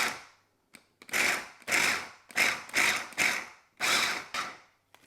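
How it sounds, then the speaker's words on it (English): A small food processor chops parsley for chimichurri, its motor whirring loudly in several short pulsed bursts separated by brief pauses, close to the listener and with no talking. "I take my little food processor, I'm going to chuck it in there."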